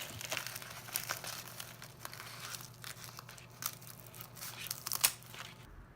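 Ribbon and deco mesh for a door wreath are cut and handled, giving close, irregular crinkling and rustling with sharp crackles and snips throughout, and no voice.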